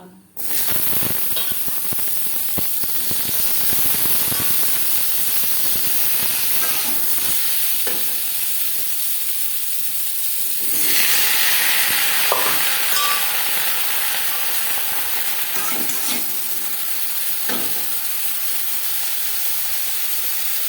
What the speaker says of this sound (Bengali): এক দু মিনিট পাঁচফোড়ন ও লঙ্কার সাথে নাড়াচাড়া করে নেওয়ার পর